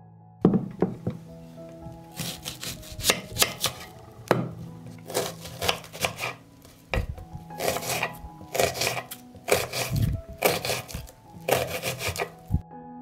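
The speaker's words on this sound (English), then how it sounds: "I will cut an onion." A knife chopping an onion on a board, a long run of close, firm thunks that come in quick clustered bursts with short pauses between them.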